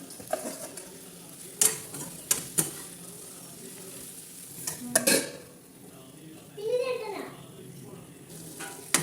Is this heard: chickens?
no